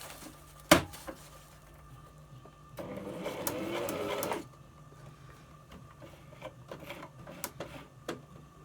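A sewing machine stitches a homemade gear bag, a short loud run of machine stitching in the middle with quiet handling clicks and taps before and after.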